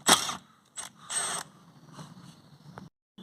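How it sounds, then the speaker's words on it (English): Ratchet and socket work loosening the 13mm wiper arm bolts on a Vauxhall Corsa D, heard as a few short, close mechanical bursts of clicking and scraping with gaps between them. "Now we can get off these 13mm bolts here from the wiper arms."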